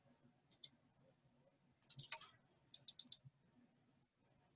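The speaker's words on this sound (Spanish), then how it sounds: "Damos doble clic aquí." A computer mouse clicked quickly several times in pairs, sharp and very faint in a quiet room.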